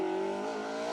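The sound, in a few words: rally car driving on asphalt stage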